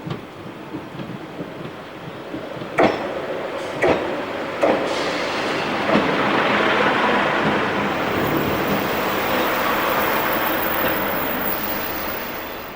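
A Northern Spirit Pacer diesel railbus in Metro livery runs on the Tyne Valley Line past a signal box, giving a few sharp rail knocks and then a swelling engine and wheel roar close by.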